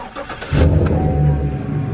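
A Chevrolet Silverado truck's engine cranks and catches after a new custom steering wheel is fitted, then settles into a loud, close, low idle rumble with no talk.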